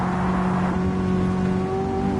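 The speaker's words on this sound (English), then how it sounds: "That race exhaust sounds pretty good." A race car engine in the Gran Turismo 7 video game drones steadily at high revs with a buzzing race exhaust note, close and continuous, with no voices.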